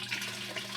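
Steady rush of water pouring into an aquaponics settling tank, a close, continuous broadband splashing flow with no talk.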